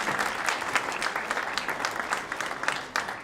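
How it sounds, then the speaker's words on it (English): An audience at a youth jazz orchestra concert claps warmly, a dense, even patter of many hands sustained throughout, moderately close. "Could you give them a round of applause, please?"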